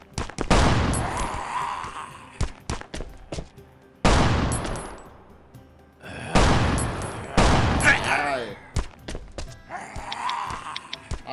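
Gunfire against zombies in Last Island of Survival, with several separate loud bursts of rapid shots spread across the clip, each ringing out and fading, and someone talking between them.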